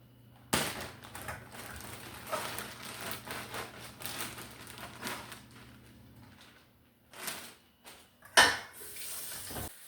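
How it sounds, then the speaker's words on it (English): Greens in a colander are rinsed in a kitchen: water runs under the tap in a soft continuous wash. Clanks and knocks of metal and dishes rise over it near the end. "Go ahead and put these greens in this colander,"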